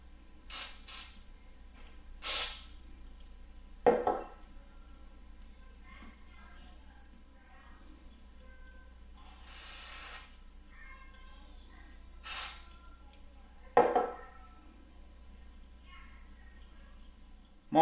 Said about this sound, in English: I'm also going to spray down into the buttons as best as I can